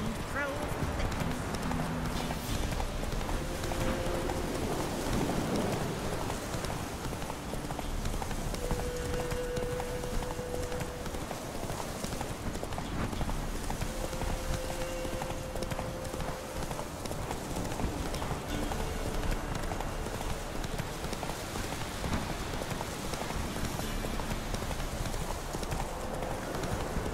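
Horse hooves clip-clop steadily at a trotting pace in The Witcher 3, close and continuous under ambient game sounds, while voices talk over the rhythm.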